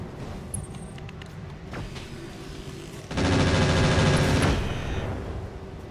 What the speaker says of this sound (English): One of the 3 missiles was intercepted, and there's a giant barrage coming down